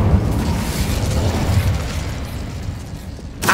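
An Incendio fire spell in a Hogwarts game bursts into a loud, roaring blast that fades over a few seconds, ending in a short sharp crackle.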